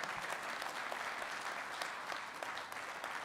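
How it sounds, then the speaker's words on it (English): A ballroom audience at an annual business meeting gives a sustained round of applause, a fairly distant, even patter of many hands with individual claps popping out. "let's give ourselves a huge round of applause for what was accomplished here this morning"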